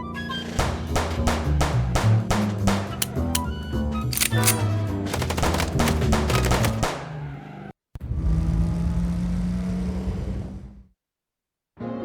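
Rapid bursts of gunfire in the video game Chicken Police, loud, dense clusters of shots over a driving music score, then a sustained rumbling tone before the sound cuts out.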